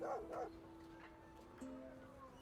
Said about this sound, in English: No kidding, it's a dog in the game.